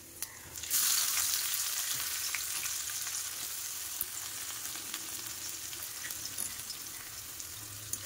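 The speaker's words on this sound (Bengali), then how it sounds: "হালকা লাল লাল করে ভেজে নেবো।" Chopped onion dropped into hot oil with spices for palak paneer, bursting into a loud hiss that settles into a steady, even sizzle with faint stirring clicks, close and without talk.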